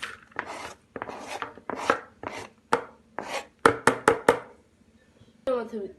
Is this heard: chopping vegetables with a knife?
yes